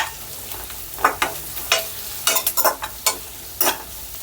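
Curry leaves dropped into hot oil with browned fried onions, giving a series of short crackling sizzle bursts and spatters over a soft steady frying hiss, close and fairly loud.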